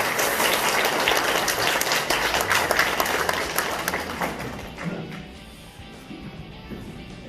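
Applause from an audience at a welfare forum launch lecture in Gumi, a dense steady clatter of many hands that swells and then gradually fades out toward the end.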